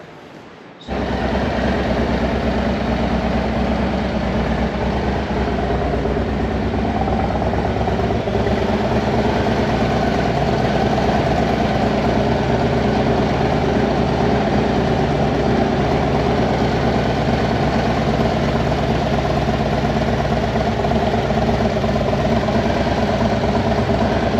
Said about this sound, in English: This is actually the second startup, but it fires right up. It's sounding great.